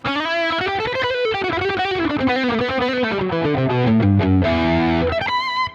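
A distorted electric guitar plays a smooth, sustained solo line, each note ringing out clearly and steadily with no voices.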